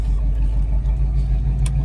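A 1978 Pontiac Trans Am on the road, its engine giving a steady, loud low rumble with mild swells in revs throughout, no talking over it.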